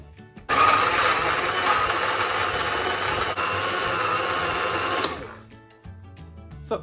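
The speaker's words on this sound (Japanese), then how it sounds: "で、ミキサー入れます。" An electric blender whirs loudly and steadily for about four seconds, mixing bananas, milk and chocolate syrup into a chocolate banana juice, then winds down and stops.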